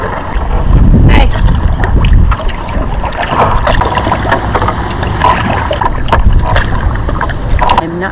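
Kayak paddling upriver on the Sheboygan River in Wisconsin on a mildly windy, overcast day: close water swishes and paddle splashes under steady wind rush on the microphone.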